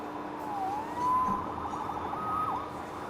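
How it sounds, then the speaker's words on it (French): A faint video-game police siren wails and rises in pitch over a low background rumble, sounding somewhat distant. "Sauvé par les sirènes."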